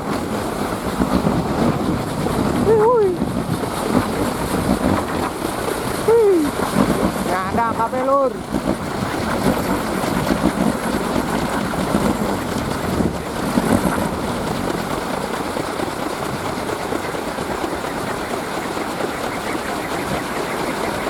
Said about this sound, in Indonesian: Angin cukup kencang, sobat. Ini kolecer-kolecernya semua bergemuruh